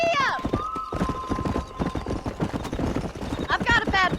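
Horse galloping in the Red Dead Redemption video game, with hoofbeats running steadily through the clip under continuous talk and a whinny-like call near the start and end.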